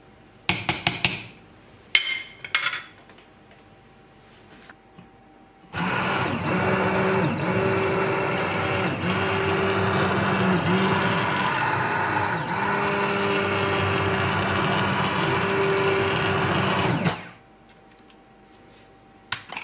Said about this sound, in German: deswegen werde ich jetzt nochmal den Pürierstab zu Hilfe nehmen und das Ganze nochmal ein bisschen mehr zerkleinern